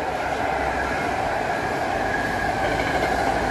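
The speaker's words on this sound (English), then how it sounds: "looks like we got an incoming San Francisco airport train." A BART Fleet of the Future train bound for San Francisco airport rolls loudly into a station, its steady rumble and wheel noise continuous and close throughout.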